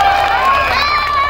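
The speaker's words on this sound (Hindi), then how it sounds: "एक बार जोर से ताली हो जाए।" An audience at a Bhojpuri music event cheers and shouts loudly as a crowd, a dense burst of excited voices lasting about a second.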